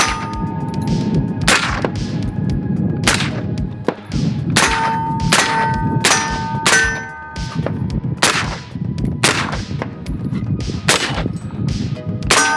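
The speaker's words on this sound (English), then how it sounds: "So he's gonna shoot this now properly gassed gun and see how it feels" A rifle with an adjustable gas system fires a dozen or so sharp, loud shots at uneven intervals, each crack ringing with a metallic clang, outdoors with no talking.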